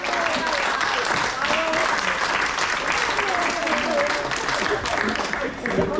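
Wedding guests at a garden reception venue applauding, dense sustained clapping from a lively crowd with cheers and voices mixed into the noise throughout.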